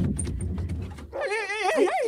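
A dog yelps and whimpers in a rising, wavering run of cries close by, following a stretch of clattering background noise.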